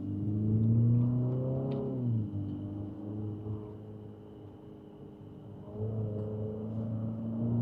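An Infiniti QX65 accelerates on a narrow road, its engine note climbing in pitch with a steady mid-range hum, easing off midway before swelling again near the end, close and fairly loud with no talk.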